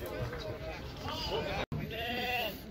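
Sheep bleat repeatedly at a busy livestock market in Uzynagash near Almaty, their wavering calls overlapping with crowd chatter and voices close by, with a brief dropout partway through.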